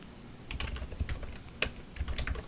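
Soft clicks of typing on a computer keyboard, faint and irregular, a handful of light keystrokes over a low steady background hum with no voices.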